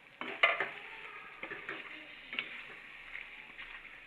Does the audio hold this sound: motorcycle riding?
no